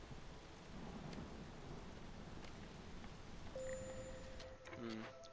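Storm in the video game Against the Storm: steady rain and low rumbling thunder fill the scene, with a few brief game tones and chimes rising over the downpour near the end.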